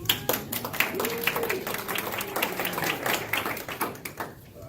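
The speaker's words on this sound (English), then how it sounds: "Barry Lewis, if you all like to give him a hand." An audience bursts into applause after an introduction for a former crime prevention officer, a moderate round of many hands clapping at close range that carries on for several seconds before thinning out near the end.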